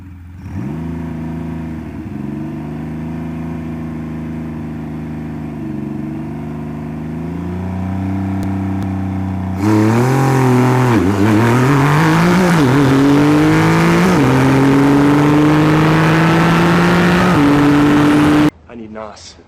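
A Triumph Rocket 3 motorcycle revving at a drag race start, its engine note rising and falling in repeated blips before a harder, louder run of climbing revs as it launches, then an abrupt cut.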